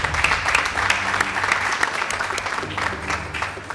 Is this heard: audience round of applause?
yes